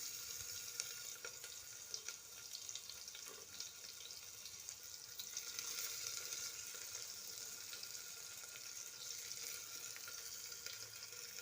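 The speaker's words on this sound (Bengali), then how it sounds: "পেঁয়াজটা এবার ভালো করে ভাজতে হবে।" Onion frying in a little oil inside a pressure cooker, a faint, continuous sizzle with soft crackles and no talking.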